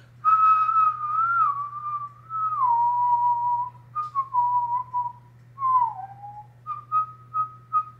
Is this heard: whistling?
yes